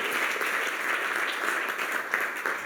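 A church congregation applauds loudly during a bilingual Sunday sermon, a thick continuous roar of clapping close and full throughout, with no speech on top.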